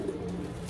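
Elvan pigeons cooing close by, a low steady murmur of soft coos that runs continuously through a short moment with no talking.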